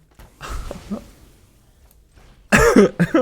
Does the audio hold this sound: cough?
yes